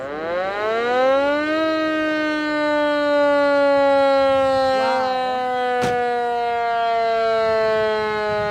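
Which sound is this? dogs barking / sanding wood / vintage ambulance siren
vintage ambulance siren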